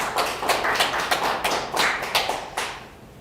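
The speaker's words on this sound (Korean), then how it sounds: "하나님께 영광의 박수." A church congregation claps together during a Wednesday worship service, a fairly loud run of rhythmic, slightly uneven hand claps with several stronger bursts that thins out toward the end.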